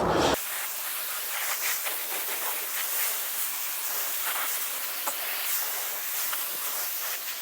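A water spray rinses a car during a decontamination wash before ceramic coating, a steady broad hiss that starts abruptly and continues evenly with small splashy fluctuations throughout.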